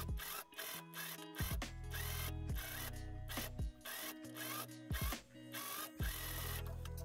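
A sewing machine stitches a sleeve into a jacket armscye, running in short close bursts of rapid mechanical whirring with brief stops between them, and no talking.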